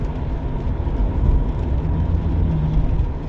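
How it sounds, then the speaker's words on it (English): A 1999 Ford Crown Victoria drives through the rain, its steady, loud low road and engine rumble filling the cabin with a constant wash of tire and wet-road noise, no voices present. "I'm driving in the rain right now"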